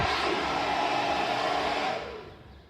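Hairdryer blowing steadily at close range, a loud continuous whooshing roar that holds for about two seconds and then winds down and fades, meant for feeding air to a homemade blast furnace.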